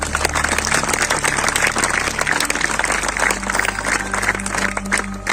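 A large crowd at a preaching gathering claps continuously in a dense, loud wash of applause, with a low steady hum underneath and no speech over it.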